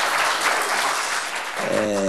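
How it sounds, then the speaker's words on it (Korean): A church congregation applauding the choir at an evening revival service, dense clapping that fades toward the end as a voice begins speaking. "우리 성가대면 다시 박수 한번 보내십시다."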